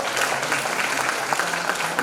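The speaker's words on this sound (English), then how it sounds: "So please give big applause to Ibu Maryanti," A workshop audience applauds in a hall, giving steady, dense clapping that holds at an even level throughout with no pauses.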